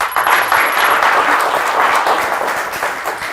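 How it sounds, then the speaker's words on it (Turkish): A studio audience on a word game show claps in a brief, continuous burst of applause, even and full throughout. "Alkışlar."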